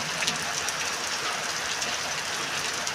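Steady heavy rain pouring down over a farm field, a dense unbroken hiss filling the scene, loud and close with no distinct thunderclap and no talk.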